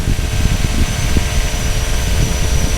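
A small plane taxis on Lake Jordan, its engine and propeller making a loud, steady, close drone with a rough low throb throughout.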